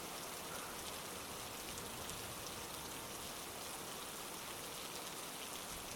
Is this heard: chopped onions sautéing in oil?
no